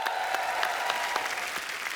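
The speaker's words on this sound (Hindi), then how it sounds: "इनके लिए भी जोरदार तालियां।" A studio audience applauds steadily for two seconds on a comedy talk show set, the clapping dense and even with no voices over it.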